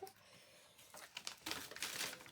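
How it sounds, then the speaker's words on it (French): Papers crinkle and rustle as they are slid back into an envelope, a close, quiet run of crumpling bursts that grows busier toward the end. "je remets tout ça dans l'enveloppe"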